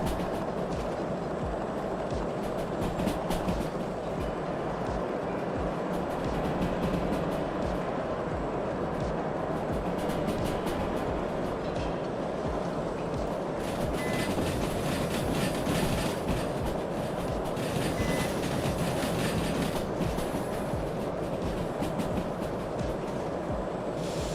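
A train rolls continuously along rails in the Derail Valley game, coasting uphill with a steady rumble and clickety-clack wheel noise, plus faint metallic squeals and clatter.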